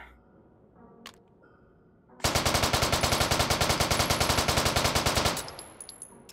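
A rapid, loud, sustained burst of machine gun fire in the VR game Hot Dogs, Horseshoes & Hand Grenades, evenly spaced shots lasting about three seconds after quiet handling sounds, then abruptly stopping.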